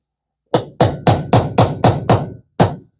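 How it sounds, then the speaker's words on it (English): Hammer driving a punch to flatten a retainer tab on a 1966 Shakespeare 2052 Royal Maroon fishing reel: seven sharp metallic strikes in a steady rhythm, then a short pause and one final blow, loud and close with no talking. "Take a hammer and a punch,"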